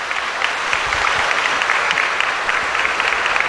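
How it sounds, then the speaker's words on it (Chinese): A hall full of people at a national reading expo honouring Master Hsing Yun breaks into dense, loud, continuous applause that keeps steady throughout. "我们应该给大师一个掌声"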